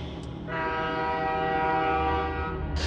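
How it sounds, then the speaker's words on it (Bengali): A train horn sounds, one long sustained blast that swells steadily in loudness as the train comes nearer, over a low rumbling rail background, with no talking. "এটা একটা ট্রেনের হর্ন। ক্রমেই শব্দটা এগিয়ে আসছে"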